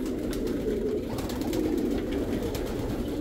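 Pigeons cooing near a nest, low soft murmuring coos repeating over a steady background hum, close by.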